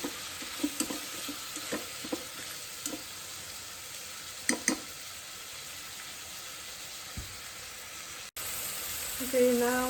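Vegetables and peppers sauté in an Instant Pot with a soft, steady sizzle and occasional stirring clicks and scrapes, quiet and close throughout.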